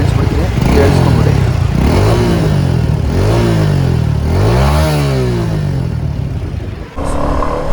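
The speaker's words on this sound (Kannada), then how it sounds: "ಒಂದ್ಸಲಿ ಬೈಕ್ ಸೌಂಡ್ನ ಕೇಳಿಸ್ಬಿಡ್ತೀನಿ, ಕೇಳಿಸ್ಕೊಂಬಿಡಿ." A Suzuki V-Strom SX 250 motorcycle engine revved up close and loud, throttle blipped repeatedly so the pitch climbs and falls in several surging waves over a steady idle.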